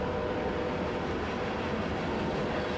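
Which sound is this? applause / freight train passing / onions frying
freight train passing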